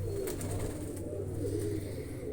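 Large pigeon cooing in steady low rolling calls, fairly close, with a continuous murmur of other pigeons around it and no voices.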